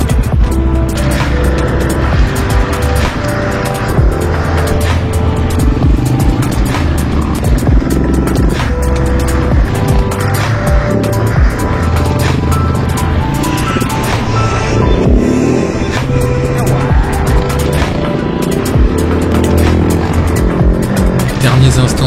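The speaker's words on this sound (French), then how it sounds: "Derniers instants sur la moto et dernière section off-road pour aujourd'hui." Motorcycle riding an off-road section over water and rocky ground, its engine droning loudly and continuously close by with shifting revs, with no talking.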